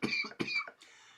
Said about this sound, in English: You're coughing, bro.